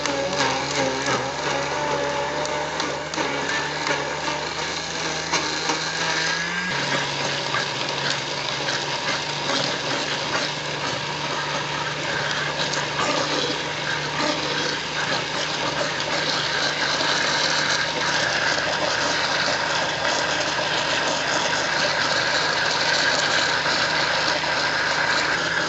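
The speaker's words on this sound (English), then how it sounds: "So I'll just blend at low speed." A blender runs at low speed on a spinach smoothie, a steady motor whir with a churning mechanical rattle that holds loud and even throughout, dropping slightly in pitch partway through.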